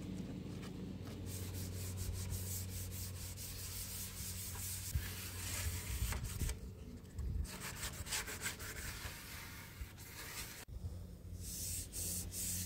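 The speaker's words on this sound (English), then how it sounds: "So now I need to scuff sand the cabinet before I apply my paint." Scuff sanding of a wooden stereo cabinet by hand, close and fairly quiet, with steady back-and-forth rubbing strokes of abrasive on wood and a few short pauses between passes.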